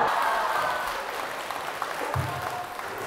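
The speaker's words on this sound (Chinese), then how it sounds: "感谢各位的热情掌声" An audience at a Deyunshe crosstalk comedy show claps as comedians walk onto the stage. The applause is loudest at first, then eases slightly and continues steadily.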